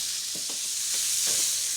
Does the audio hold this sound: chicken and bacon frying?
yes